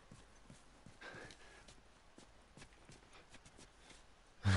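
Horse hooves clip-clop at a steady walking pace in the video game The Last of Us. The hoofbeats are faint, with a louder thump at the very end.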